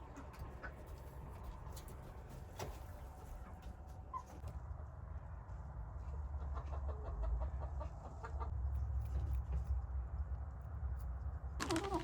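Chickens cluck on and off nearby, with soft murmuring calls over a low background rumble.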